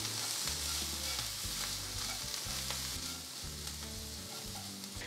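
Paneer pieces fry in a pan with garam masala, chicken masala, turmeric and coriander, giving a dense, continuous sizzle over a low hum, with no voices.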